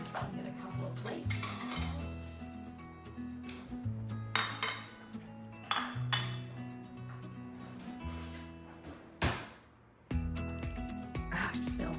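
Ceramic plates fetched and handled in a home kitchen, with repeated clinks, knocks and scrapes of dishes and cutlery close by, while a faint hum runs underneath.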